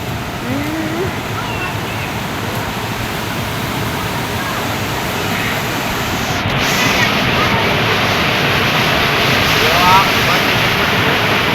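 Water rushes steadily past a riverbank beside a picnic platform in open countryside, a broad continuous roar that swells slightly in the second half, with no voices standing out.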